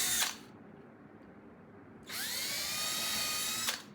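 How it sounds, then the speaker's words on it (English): A small drill whirs briefly, stops for a moment of quiet, then runs again with a steady high-pitched whine close by. "So let the drill bit do the work."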